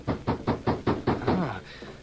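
Someone knocks on a mission house door in a radio drama, six or seven firm, evenly spaced raps. A voice follows right after the knocking.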